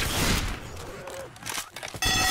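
Dense, rapid machine gun fire in Left 4 Dead 2, a zombie shooter game, rattling loudly across the whole moment with brief dips, and a voice faintly mixed in.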